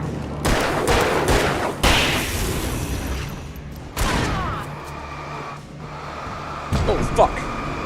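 Gunfire in the Alan Wake video game, several sharp booming shots at irregular intervals over a rumbling game soundscape, with a player's voice exclaiming between them.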